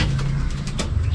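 Soft pigeon coos murmur low and steady through the short stretch, close by, with a faint airy hiss of background noise behind them.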